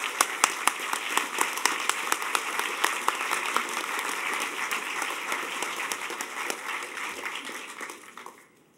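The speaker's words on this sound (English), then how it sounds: "So I think if anybody deserves a round of applause," Audience applause at the HOPE Number Six hacker conference closing ceremony in 2006, a dense, steady wash of many hands clapping that holds for several seconds, then thins and fades out.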